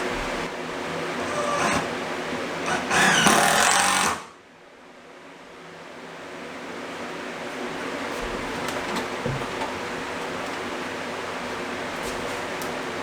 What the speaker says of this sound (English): Here's a bigger drill.